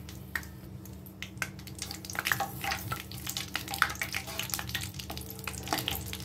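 Herbs frying in sesame oil hiss and spit as their moisture cooks out, with a dense, steady crackle of small pops. A constant low hum runs underneath throughout.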